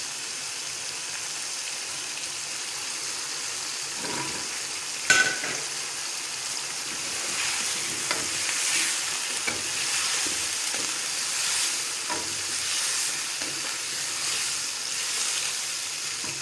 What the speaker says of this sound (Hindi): अब 5 मिनट हम इसको भूनेंगे।